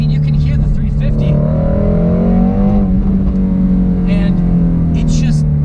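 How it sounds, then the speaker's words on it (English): A 2020 Ford Shelby GT500's engine and exhaust rev loudly and steadily, the pitch rising and falling through a raspy, continuous drone with a brief dip midway, close up. "the exhaust it's so"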